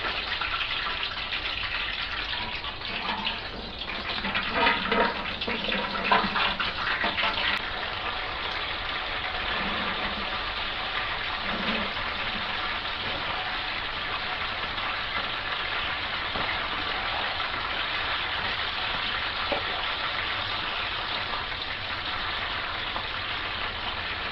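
Fish fries in hot oil at about 325 degrees, a constant dense sizzling hiss like heavy rain that holds steady throughout with a few louder crackles early on.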